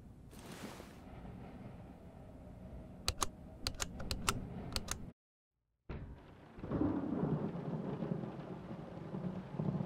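Typewriter keys clack in the Layers of Fear horror game remake, a quick burst of sharp, separate strikes amid low rumbling ambience, followed by a brief silence and then heavier background noise.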